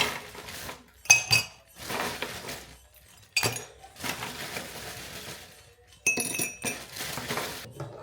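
Ice cubes drop into glasses in a series of bright clinks and rattles, several separate bursts with short quiet gaps between them.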